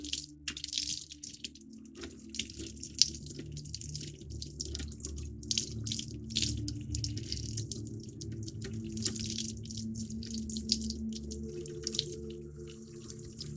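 Plastic parts from a 1:48 Panavia Tornado model kit are rinsed under a running tap, a steady splashing water flow with irregular drips and light knocks of plastic, with no voices.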